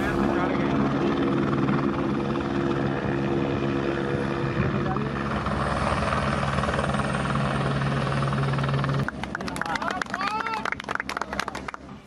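An army helicopter works a flood rescue, its rotor and engine droning loudly and steadily throughout, with a voice talking over it until the noise turns rougher and choppier near the end.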